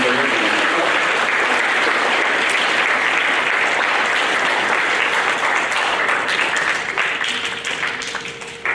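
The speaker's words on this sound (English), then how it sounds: "How about a round of applause for academic excellence?" A school audience at an eighth-grade awards program applauds loudly and steadily, the clapping thinning slightly toward the end.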